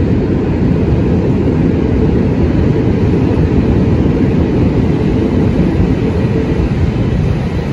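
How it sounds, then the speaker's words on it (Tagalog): Fourth-generation light rail train set passing an elevated line in Manila, a loud, steady rumble of wheels and rails with clickety-clack, close by and without talk. "Yung train na po yan ay bound for Dr. Santos in Sucat, Parañaque City."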